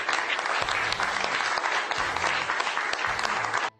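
Government ministers applaud the president at a cabinet meeting. The clapping is brisk and steady, moderately loud, with a few sharper claps, and cuts off abruptly at the end.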